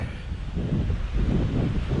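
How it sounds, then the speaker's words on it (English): Strong wind at the beach buffets and roars across the microphone in a continuous low rumble, gusting slightly louder midway, with no voices. "It's getting a bit windy now"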